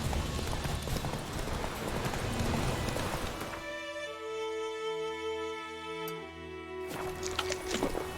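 Horse hooves in the Witcher 3 video game, a dense steady clip-clop running continuously under loud ambient game noise and music, close and unbroken throughout.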